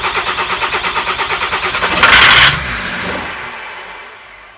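A VW T4 van engine, newly installed, cranks with a rhythmic starter churn, catches with a loud burst, then settles into a rough, fading run with no voices.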